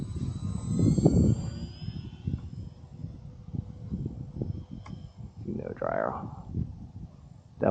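Small Hummer 3D EPP foam acro plane, 1000mm wingspan, flying aileron rolls and barrel rolls outdoors, its faint electric motor whine rising and fading at a distance beneath steady talk and wind.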